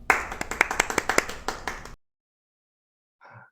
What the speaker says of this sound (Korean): 우리 유동현 선교사님 박수로 환영하겠습니다